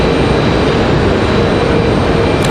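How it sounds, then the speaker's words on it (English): A Breeze Airways airliner comes in to land at Raleigh-Durham International Airport (RDU), giving a steady, loud, broad jet roar that holds evenly throughout with no talking. "we got Breeze Airways getting ready to come in here"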